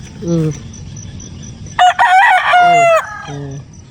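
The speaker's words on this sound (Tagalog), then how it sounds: "Ang ingay ng aming mga manok." A rooster crows loudly nearby, preceded and followed by a few short hen clucks against a quiet background.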